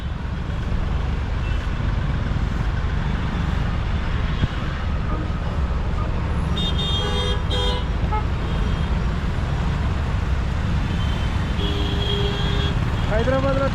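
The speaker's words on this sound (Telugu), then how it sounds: "ట్రాఫిక్ వచ్చింది, ట్రాఫిక్ జామ్." Hyderabad road traffic jam near Hussain Sagar, a continuous low rumble of engines with a few car horn toots rising midway and near the end, under ongoing talk.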